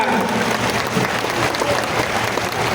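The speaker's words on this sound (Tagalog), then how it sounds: "Isa na lang ang request ko, malakas na palakpak." A crowd claps loudly and continuously, dense applause with no break, faint voices mixed in.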